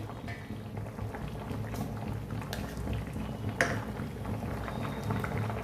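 A pot of rohu fish curry with capsicum bubbles at a steady simmer, a continuous soft boiling hiss and gurgle with no talking.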